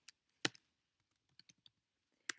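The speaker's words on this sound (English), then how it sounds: "So let me type that in there." Typing on a computer keyboard, heard as a handful of faint, sparse, close keystroke clicks in an irregular rhythm, with one or two sharper taps standing out against near silence.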